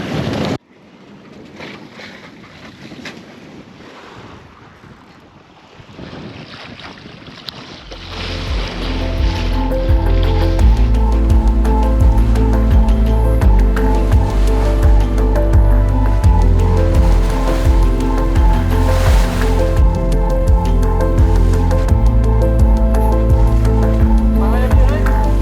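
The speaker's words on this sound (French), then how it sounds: "20 bons nœuds de vent qui sont levés. On file à 5 nœuds d'eau." A sailboat heels under about 20 knots of wind, moving at 5 knots, with a strong continuous rush of wind and water. It starts quieter and swells into a loud, steady roar after several seconds, and someone talks intermittently.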